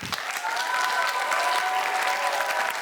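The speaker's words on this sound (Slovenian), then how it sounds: "En velik aplavz!" An audience at a school cup-stacking competition breaks into loud, dense, sustained applause that holds steady for a few seconds without a pause.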